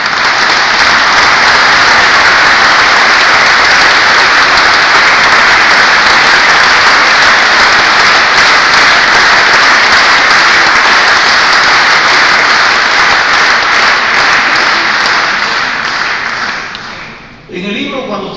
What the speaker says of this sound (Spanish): tributémosles un fuerte aplauso a nuestro presidente de Acción Nacional.